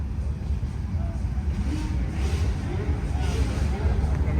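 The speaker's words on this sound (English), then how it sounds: "Oh, we got this Lamborghini leaving." A Lamborghini pulling away from a car show in Florida, its engine a steady low rumble that builds slightly as it departs, heard amid a noisy outdoor crowd with people talking throughout.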